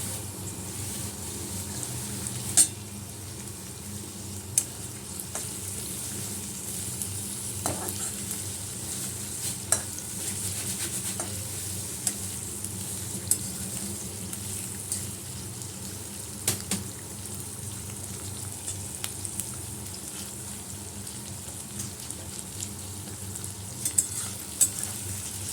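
Garlic and ginger paste frying in a pan, a quiet continuous sizzle with scattered scrapes and taps of a spatula stirring, steady and close with no voices.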